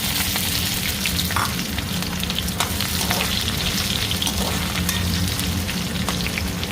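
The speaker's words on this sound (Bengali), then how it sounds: "পেঁয়াজটাকে ভালো করে ভাজবো যাতে কাঁচা গন্ধটা চলে যায়।" Onions fry with cumin and bay leaf in hot oil in a pan, giving a dense, even sizzle that crackles throughout with occasional stirring clicks.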